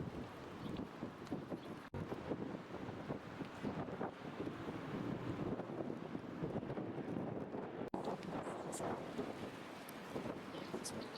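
Late-March wind gusts steadily across an outdoor spot above a swimming pool in Lyon, a soft but constant rushing buffet that briefly dips twice.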